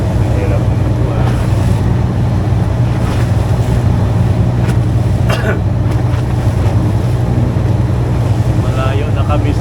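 A boat sailing on open sea near Semirara Island, Antique, heard as a steady low engine drone and rushing water from rough waves, with heavy wind buffeting the microphone throughout and faint voices underneath.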